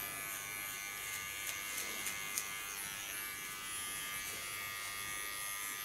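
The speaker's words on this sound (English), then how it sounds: "Take my small clipper, lay the hairs to the side, Get rid of the small hairs." A small electric hair clipper trims fine hairs at a haircut, giving a faint, steady, high buzz with slight flickers as it moves, close and continuous.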